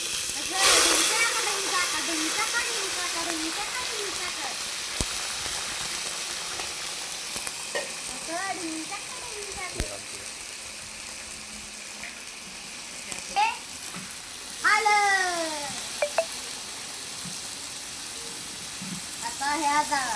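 Mutton pieces hit hot oil and fry with a loud, steady sizzle and spitting hiss close up, while people talk over the frying and a utensil clinks now and then.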